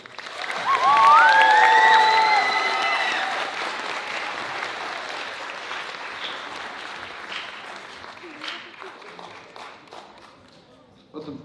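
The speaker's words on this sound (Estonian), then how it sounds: "Teeme korra veel ühe aplausi Lihule 3." Audience applause and cheering for a third-grade class at a school playback performance show, with whoops and a whistle early on, then gradually thinning clapping that tapers off toward the end.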